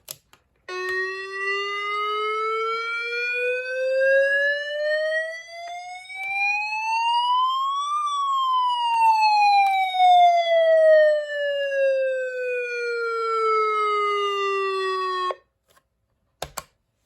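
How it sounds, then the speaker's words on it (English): A loud wailing siren sweeps steadily upward in pitch for several seconds, then slowly falls back down, sounding alone and close. "See, them sirens right there"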